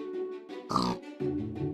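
A Minecraft pig gives short, close grunting oinks, a few in quick succession, with a brief brighter game sound in the middle and no talk.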